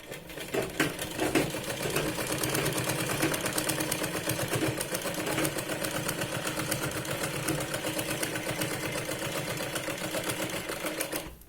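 A sewing machine stitches a seam on a Punjabi dress, a continuous fast mechanical chatter close up and fairly loud, running steadily without pause and stopping abruptly at the end.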